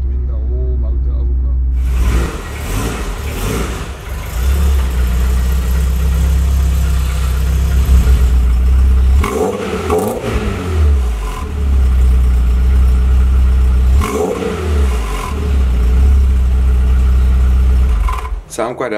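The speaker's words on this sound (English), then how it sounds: "It's not too loud, it's very quiet on idle, and then just in a little bit of high revs there's a nice tone to it" Volkswagen Mk3.5 Golf cabrio with a Pro-fit exhaust idles low and quietly, then revs up in several rising blips and settles back, close by and loud, with a person talking over parts of it.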